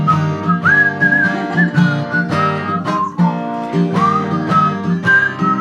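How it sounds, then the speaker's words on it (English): Several people whistle a cheerful melody together in unison, steady and loud, with sustained notes and small pitch slides over a continuous accompaniment. "Now whistle with me."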